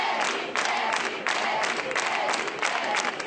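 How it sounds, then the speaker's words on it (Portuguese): A studio audience at a Brazilian talk show claps and cheers, a loud, dense crowd roar that swells in repeated bursts across a few seconds with voices mixed in. "Eu ia falar, esses aplausos,"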